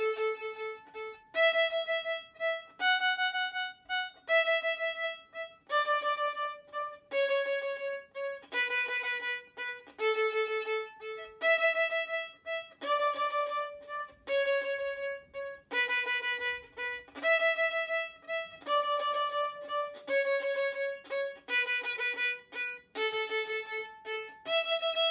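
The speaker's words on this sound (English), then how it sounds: "I'm going to play the whole variation on the Twinkle tune" A solo instrument plays a variation on the Twinkle tune: clear melodic notes in a steady, repeating rhythmic pattern, with short detached pulses grouped into phrases and continuing for about twenty-five seconds without any talking.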